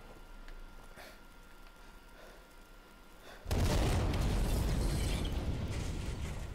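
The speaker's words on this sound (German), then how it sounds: "dass jetzt auch noch der Panzer oder so auf mich ballert" Tank firing in the Sniper Elite 4 video game: a quiet, rattling mechanical stretch gives way to a sudden heavy boom, followed by a loud, sustained roar that fades only slightly, with no talking.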